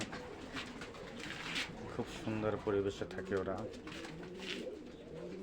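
Pigeons coo softly in a loft in Kuwait, each nest box occupied, with a faint murmuring warble that runs under a voice speaking throughout.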